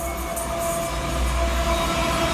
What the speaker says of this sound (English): A Class 221 train exits